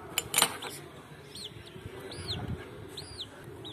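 A live country chicken clucks in short rising calls, several times in a row, fairly close, with some handling noise and rustle at the start.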